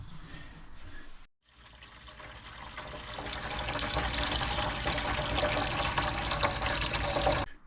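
Water pours into a motorhome toilet over sterilising tablets, a steady close rushing splash that swells after a brief pause and runs loud to the end, with no talk.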